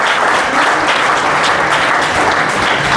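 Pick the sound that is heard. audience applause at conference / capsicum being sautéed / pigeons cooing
audience applause at conference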